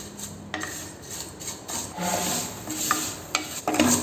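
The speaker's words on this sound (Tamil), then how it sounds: "சேமியா நமக்கு வந்து நல்ல ப்ரௌன் கலர் ஆகிற வரைக்கும் இந்த நெய்யில் நம்ம வறுக்கணும்" Vermicelli roasts in ghee for payasam as it is stirred, soft scraping and rubbing strokes against the pan with a light sizzle underneath, close and fairly quiet.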